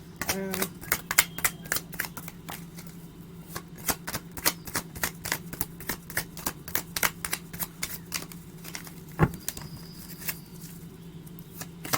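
Tarot cards are shuffled in a quick, rhythmic run of crisp riffling clicks close to the microphone, over a low steady hum in an otherwise quiet room.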